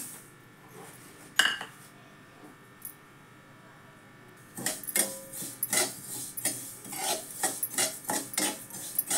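Sesame seeds dry-roasting over low gas in a kadhai, first a quiet faint rasp with one sharp scrape, then rhythmic scraping and rustling strokes of stirring, close and moderately loud.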